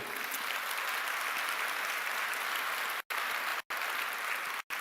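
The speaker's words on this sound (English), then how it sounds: "Let's applaud" Graduation ceremony audience for Arts and Social Sciences applauding in a hall, a continuous moderately loud wash of clapping that cuts out in brief abrupt gaps near the end.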